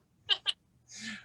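A cat gives two short meows followed by a longer, drawn-out meow, close and fairly quiet with no other sounds.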